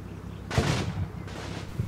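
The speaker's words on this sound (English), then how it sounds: "Our tank fires at this team here." Tank and machine gun fire in the Combat Mission World War II strategy game: a loud burst of gunfire followed by a second, fainter one, with low rumbling underneath, and no talking.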